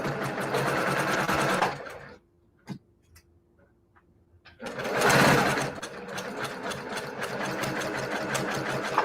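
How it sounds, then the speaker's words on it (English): A sewing machine stitching quilt block pieces runs in a fast, steady whir, stops for about two seconds with a few faint clicks, then starts up again loud and close. "And I'm going to sew and make sure I hit that blue dot."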